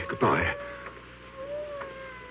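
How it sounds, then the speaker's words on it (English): A cat meows in an old radio mystery drama, one loud drawn-out cry followed by fainter plaintive calls against a quiet room tone. "I hear a cat."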